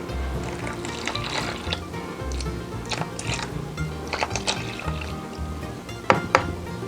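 Liquid is poured into flour for ube cheese pandesal dough, a soft, faint splash and trickle with a few light knocks of the container, close up and with no voice.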